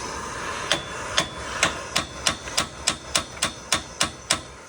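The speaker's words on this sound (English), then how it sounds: "the pressure pushing in with the heat and the hammer will eventually break this axle loose" Hammer blows on a heated, seized axle clamped in a vise while removing the hub of a 2006 Ford Ranger 4x4, about ten sharp metallic strikes in a steady rhythm, close and loud.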